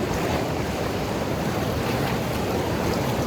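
Ocean surf at Padang Padang beach in Bali, a steady broadband wash of breaking waves with wind noise buffeting the microphone, continuous and fairly loud with no voices.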